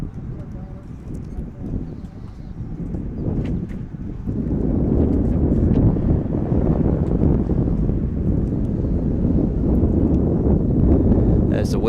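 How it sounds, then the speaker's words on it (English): Wind gusts across Robert Lenahan Field, an outdoor baseball ground, during an under-16 national game. A loud, rumbling buffet against the microphone strengthens partway through, and a commentator's voice runs beneath it. "As the wind picks up here"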